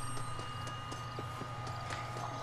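Horse hooves clip-clop at a steady walking rhythm in Red Dead Redemption: Undead Nightmare, evenly spaced clear clicks over a constant low background hum, fairly quiet.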